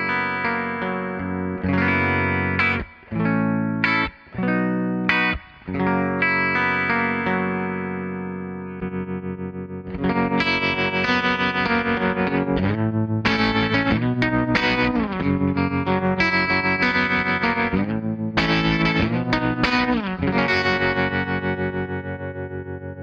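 Clean Stratocaster electric guitar with no effect: strummed chords with brief pauses early on, then a steady, sustained run of ringing notes and chords.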